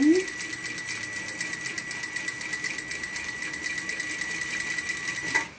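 A sewing machine stitches fabric in a rapid, steady mechanical chatter that is close and continuous, briefly stopping near the end.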